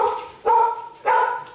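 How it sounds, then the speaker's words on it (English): Indoor dogs give two sharp, loud barks about half a second apart, each followed by a short whiny tail, close to the listener. "Say hello to my dogs."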